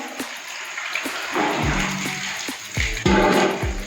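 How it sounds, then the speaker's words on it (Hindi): A jacket being washed by hand in a tub of water after soaking, with repeated sloshing and splashing strokes that come close and steady, with no talk over them. "अब ठंडी शुरू हो गई है तो जैकेट धुल रही है।"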